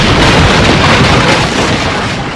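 An exploding billiard ball in a Wild West billiard hall in Colorado, rendered as a loud, sustained roaring blast of broadband noise that fills the whole moment without pause.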